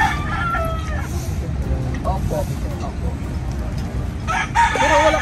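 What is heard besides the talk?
rooster crowing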